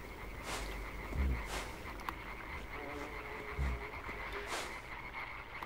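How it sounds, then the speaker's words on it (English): Frogs croaking in the dark, musicless platformer game Limbo: a steady chorus of low croaks repeating over a constant ambient hum, with a few deeper thuds near the start and middle. "That's kind of cool, those frogs."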